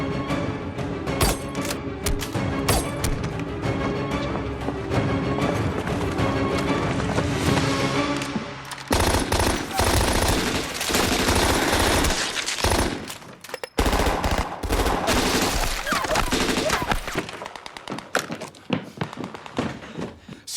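Loud, relentless machine gun fire in an ambush scene, sustained rapid bursts close up that pause briefly and resume, mixed with impacts and thuds and trailing off near the end.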